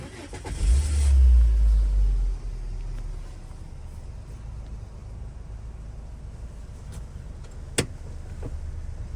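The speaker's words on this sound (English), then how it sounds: "I'll give the vehicle a quick start up to listen to how the engine sounds." A car with a manual gearbox starts up, a loud surge of engine noise in the first two seconds that settles into a steady idle, with a brief click near the end.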